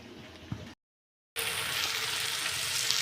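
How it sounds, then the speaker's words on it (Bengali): Pea dal cooking with potatoes in a pan: a soft simmer, then a brief dead silence, then a loud, dense sizzle and bubbling that carries on to the end. "রাতে রান্না করছি মটরের ডাল, আলু দিয়ে রান্না করব মাখা মাখা করে লুচির সঙ্গে"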